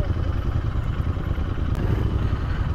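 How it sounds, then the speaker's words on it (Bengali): Motorcycle engine running steadily at close range, a continuous low rumble while the bike is moved into place at a riders' meet in Sikkim. "বাইকটা আগে জায়গায় রেখে দিই"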